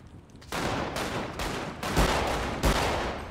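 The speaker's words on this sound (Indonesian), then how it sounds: "Oh dua orang tembak aku." Gunfire in GTA 5 roleplay, a string of heavy shots with two sharper blasts near the end, loud and close against a dense noisy backdrop, with no talk over it.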